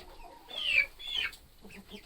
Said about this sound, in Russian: вот в клетке у меня сидят только курочки